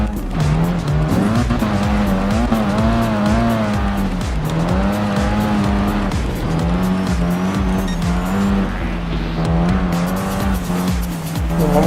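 A race car in the video game Gran Turismo Sport skids through a corner, with loud sustained tire squeal warbling over a steady engine drone for several seconds.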